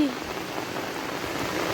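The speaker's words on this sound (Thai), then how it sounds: "ฝนตกนะพี่น้องฝนตกทั้งคืนเลย" Continuous rainfall hisses steadily on surfaces, an even wash of dense drops without pauses.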